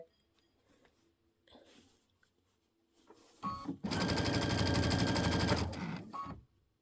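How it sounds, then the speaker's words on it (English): A sewing machine sews down the binding on a Christmas quilt, whirring loudly and steadily for about two seconds after some faint handling sounds, then stopping. "Okay, we're going to sew that down"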